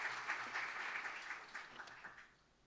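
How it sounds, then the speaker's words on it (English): Audience applause in a hall at an arts conference opening, a brief patter of clapping at moderate distance that thins out and fades within about three seconds. "A round of applause, of course."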